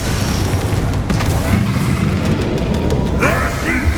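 Dense, continuous magical combat in Hogwarts Legacy, with the Bombarda blasting spell's booming explosion rumbling loudly amid steady battle noise, and a voice speaking over the din.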